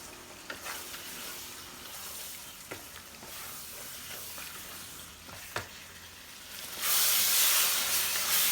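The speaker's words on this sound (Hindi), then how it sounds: "अच्छे से इन सबको मिक्स करेंगे और चिकन को तकरीबन 5 मिनट भूनेंगे" Chicken fries in masala for biryani while being stirred, a steady sizzle broken by occasional spoon scrapes and clacks, then swelling into a loud, bright hiss near the end.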